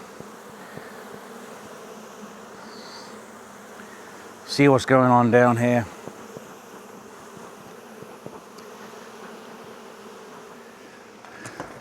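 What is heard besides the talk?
bees buzzing around beehive boxes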